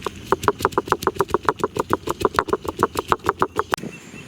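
A kitchen grinder grinding chillies for a Tamil Nadu chutney, a rapid regular train of loud rhythmic pulses lasting several seconds before it winds down.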